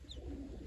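Breeding pigeons kept at a village home, one giving a brief low soft coo, close and muffled, in a very short snippet with no talking.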